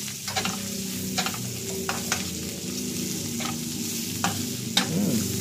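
Tuyo, dried fish from Tagaytay, sautéing in a pan with a steady close sizzle, broken by several brief scraping stirs of the spatula.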